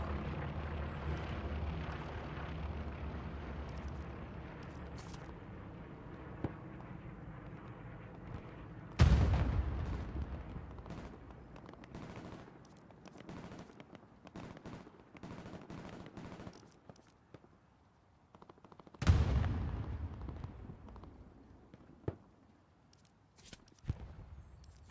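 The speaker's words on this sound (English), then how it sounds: "strafing run coming into town" A World War II aircraft strafes in the Hell Let Loose video game: distant rumbling gunfire and engine noise build to two sharp, loud bursts about ten seconds apart, then fade into quieter scattered shots.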